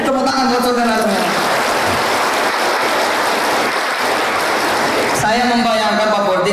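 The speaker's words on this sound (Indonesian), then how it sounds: "Tepuk tangan buat saudara semua" An audience at a motivational religious talk claps together, producing a loud, dense wash of applause that swells through the middle, with speech audible at the start and end.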